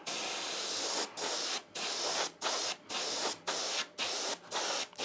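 An airbrush or spray can applies paint to model railway scenery in short hissing bursts, about eight even sprays separated by brief pauses, close and clear.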